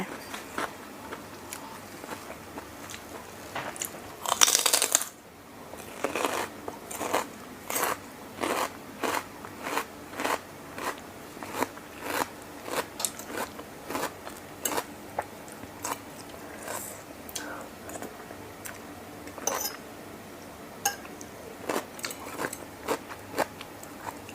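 Loud, close crunching bites of raw vegetables while eating a salmon and seafood rice-noodle salad, a steady series of crisp crackling bites and chewing with no talk.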